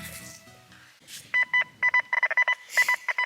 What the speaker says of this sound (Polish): Zobaczcie, mam koło siebie dwa sygnały.